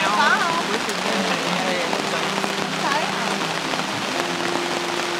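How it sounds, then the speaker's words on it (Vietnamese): Heavy rain at a campsite drums steadily and densely on tarps and the ground, a close, constant wash of droplets. Faint voices come through now and then beneath it. "Hôm nay mưa to kìa."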